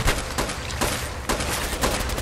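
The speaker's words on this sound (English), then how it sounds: "I'm shooting you point blank." Rapid gunfire from the video game Fallout 4 fills the scene, with repeated bursts of shots crackling in quick succession at a loud, dense level and no speech over it.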